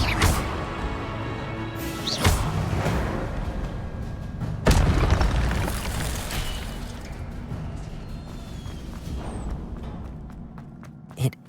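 Incendio fire spells burst in Hogwarts Legacy, with a few loud whooshing blasts in quick succession, then rumbling and scattered impacts fading before a final sharp hit.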